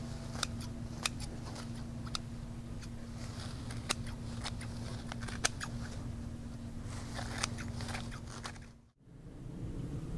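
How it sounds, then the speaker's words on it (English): Repeated crisp snips of scissors cutting garden flower stems, spaced irregularly over a steady low hum, with a brief drop to near silence near the end. "So I like to use scissors for this job."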